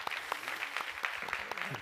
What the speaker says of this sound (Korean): 다시 한번 크게 박수하실까요?